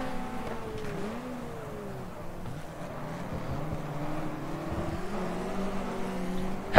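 A Lotus Cortina racing in the game GT Legends drones steadily at moderate volume, its engine note gliding up and down through gear changes with a faint squeal of tyres underneath, and no talk.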